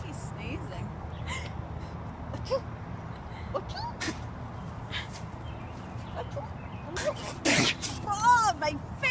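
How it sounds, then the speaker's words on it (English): A sudden burst of a llama's sneeze near the end, amid people talking and excited voices at close range. "I think he's sneezing."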